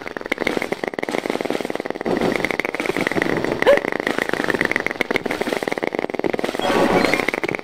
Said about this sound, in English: Now you might notice the chattering of teeth.